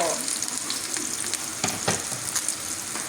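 Meat sizzles in hot oil in a pan for quick pancit noodles, a steady crackling hiss broken by a few sharper pops and scrapes of stirring, close and alone with no talk.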